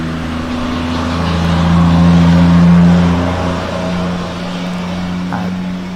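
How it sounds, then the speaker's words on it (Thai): A stone-hauling truck drives past on a road, its deep engine drone and rumble swelling loudly as it nears, then fading back to a steady hum. "รถผ่านพอดีนะรถบรรทุกหิน"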